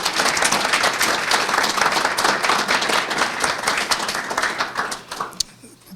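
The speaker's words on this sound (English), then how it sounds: "we want to go ahead and give applause to you right now" Audience applause at an adult basic education graduation ceremony held at MCF-Shakopee, a loud, dense crowd of clapping hands with a few cheers that holds steady, then thins and fades out near the end.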